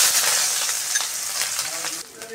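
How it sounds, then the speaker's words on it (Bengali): Chopped onions fry in a pan with a pinch of salt, giving a close, bright crackling sizzle with a few scrapes of stirring; the sizzle drops slightly near the end. "আস্তে আস্তে পেঁয়াজ ভেজে নিতে হবে"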